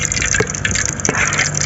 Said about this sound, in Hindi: कढ़ाई में घी डाल लेंगे जी।